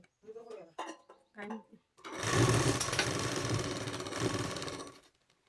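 Sewing machine stitching a katori blouse, a loud, steady whirring run of about three seconds close by, preceded by a person talking.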